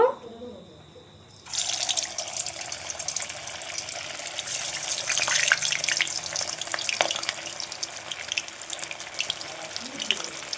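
Shaped egg pakoras drop into hot oil and break into a dense, steady bubbling sizzle that holds for several seconds after a brief quiet start, with no voices.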